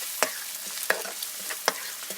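A spoon stirs egg masala curry gravy in a pan, three distinct scraping strokes spaced evenly over a soft background sizzle, close and moderately loud, with no voices.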